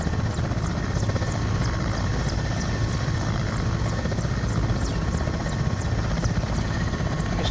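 A Mil Mi-17 V-5 helicopter in Microsoft Flight Simulator throttles up and lifts into a hover. Its steady, loud turbine whine and rapid rotor chop run evenly throughout with no talking.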